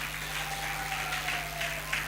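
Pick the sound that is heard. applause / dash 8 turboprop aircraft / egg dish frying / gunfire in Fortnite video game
applause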